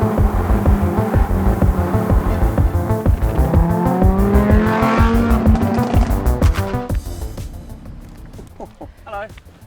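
A Lamborghini Huracan engine roars loudly from inside the moving car, rising through the revs with a climbing pitch, then backing off into crackles and pops, while occupants talk over it.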